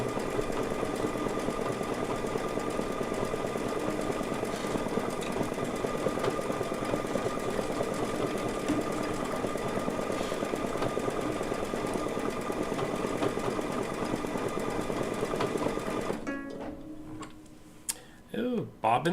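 A sewing machine stitching a quilt runs steadily with a fast, even mechanical ticking for about sixteen seconds, then stops, leaving a few faint clicks and handling noises.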